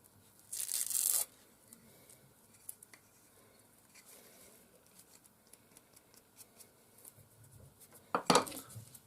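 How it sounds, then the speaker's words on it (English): Tape gets peeled off the handle of a full-tang knife in two loud ripping bursts, one near the start and one near the end, separated by quiet handling noises. "Obviously get rid of the tape."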